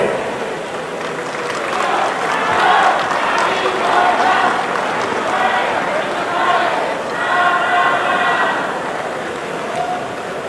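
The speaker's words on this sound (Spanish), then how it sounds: "El aplauso para recibir al honorable ayuntamiento de Benito Juárez" Crowd applause and cheering welcoming the Benito Juárez town council at a ceremony handing over the symbolic fire to municipalities, steady and fairly loud across the whole stretch with swelling peaks of clapping.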